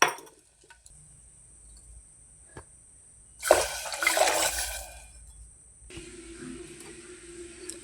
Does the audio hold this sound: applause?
no